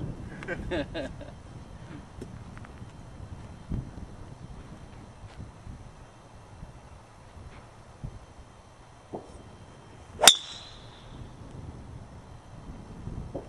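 Golf driver striking an old range ball outdoors, one sharp loud crack standing out from faint wind and background noise.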